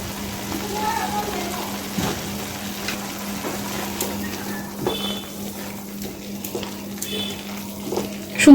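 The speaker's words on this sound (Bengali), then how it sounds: "করে মশলাটা ভাইজা নিব" Spice paste with salt and turmeric frying in a pan for a banana-flower ghonto, a close steady sizzle with occasional stirring scrapes and a low hum underneath, no talking.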